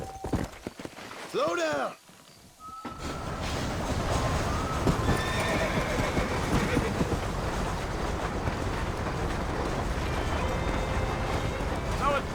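A horse in Red Dead Redemption gives a loud, quavering neigh and then breaks into rhythmic galloping hoofbeats under wind. Someone speaks briefly near the start.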